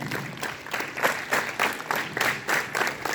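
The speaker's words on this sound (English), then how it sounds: "Clap your hands." Students at a school morning assembly clap in unison on command: a steady series of loud, crisp group claps in a regular rhythm, roughly three per second, with little else audible.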